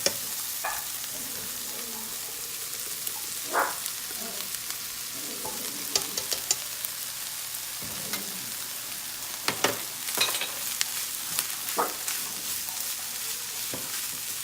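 Chicken fried rice with scrambled egg stir-frying in a pan, a steady soft sizzle broken by scattered scraping and clinking of the spatula against the pan, close and fairly quiet throughout.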